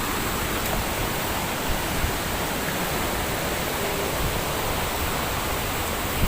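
A steady, loud roar of rushing water from a waterfall, constant and close with no voices.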